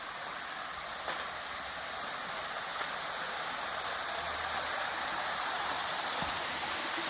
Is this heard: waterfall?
yes